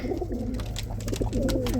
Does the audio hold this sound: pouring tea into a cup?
no